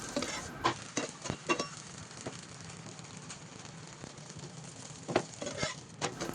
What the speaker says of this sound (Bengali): পরোটা ভেজে নিচ্ছি।